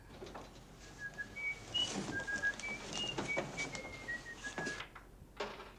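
Whistled signals from a scene in the 1961 film West Side Story: a string of short, clear, high whistles of varying pitch repeats across the scene over a busy background with brief noisy bursts.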